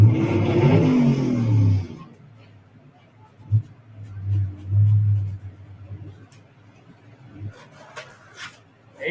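Gasser drag race cars rumble and rev at the Southeast Gassers Association Southern Nationals. Deep engine surges rise and fall after a brief stretch of talk at the start.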